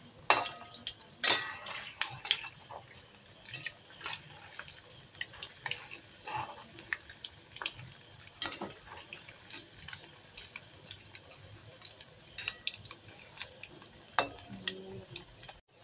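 Gulab jamun dough balls fry in hot oil with faint, scattered crackles, ticks and little pops that go on steadily, plus an occasional light clink of a utensil nearby.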